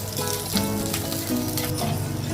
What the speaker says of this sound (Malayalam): കറിവേപ്പില പച്ചമുളക് സവാള നമ്മളെല്ലാം ചേർത്ത് കൊടുത്തു ഇനി അത് നന്നായിട്ട് വഴറ്റിയെടുക്കാം നമുക്ക്